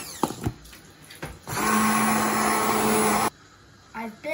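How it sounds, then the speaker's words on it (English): A blender whirs through leek and wild garlic soup in one loud, steady burst of nearly two seconds, preceded and followed by brief clatter and handling noises. "Now I'm going to blend the leek and wild garlic soup up"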